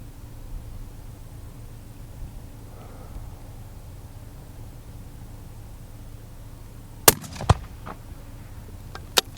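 A Palma target rifle fires at a 600-yard range on a windy day, giving a sharp, loud crack with a short echo, followed by fainter distant shots from other firing points over steady wind noise.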